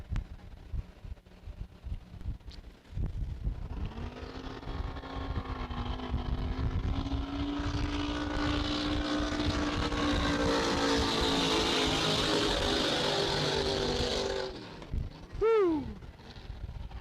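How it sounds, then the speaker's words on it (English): A Curtis drag boat powered by a Ryer Morrison 540 cubic inch engine races at the SDBA Paris finals. Its loud engine roars up in pitch and holds a sustained howl for about ten seconds before cutting off abruptly. "The boat is a Curtis, powered by a Ryer Morrison"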